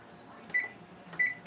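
A kitchen timer beeps in short bursts while being set, with quiet room noise between the tones.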